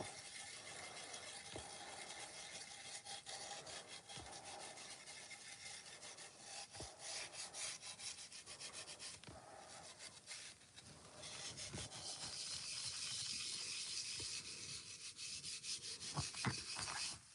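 A pot is sanded by hand with steady, continuous gritty rubbing strokes at close range, a soft rasping texture running throughout with no talking.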